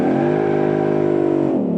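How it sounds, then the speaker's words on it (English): A muscle car in BeamNG doing a burnout holds a loud, steady high-revving engine drone with a rich harmonic buzz, dipping slightly in pitch at the end. "How about a burnout?"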